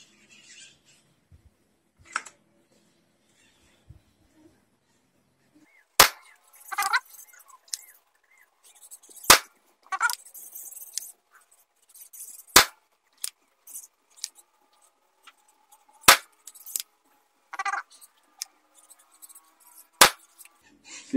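A Tiger M10 PCP air pistol at 180 bar fires five 14.5 pellets, sharp close cracks spaced about three to four seconds apart, separated by quieter mechanical clicks and handling noises between shots.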